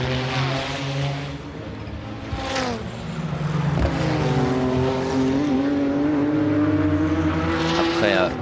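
A race car during the 1996 Le Mans 24-hour race, an engine note rising and falling as the car revs and pulls away, under steady commentary.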